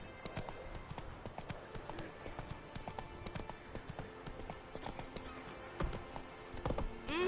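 Horses' hooves clip-clop steadily on the ground in The Witcher 3 video game, a continuous close rhythm of trotting hoofbeats with faint voices and a horse whinny near the end.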